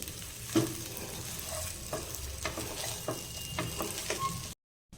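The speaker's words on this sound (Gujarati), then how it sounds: "તો આ બધો વઘાર તેમાં સારી રીતે આ રીતે મિક્સ કરી દઈશું બધી બાજુથી" A spoon scrapes and stirs tempering into muthiya in a sizzling pan, with repeated clinks and scrapes over a steady soft frying hiss.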